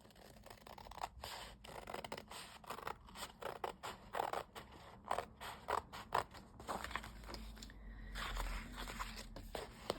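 Scissors snip through a diamond painting canvas sheet in a quick run of close, crunchy cuts, with brief pauses between the strokes.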